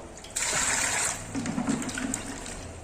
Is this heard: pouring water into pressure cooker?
yes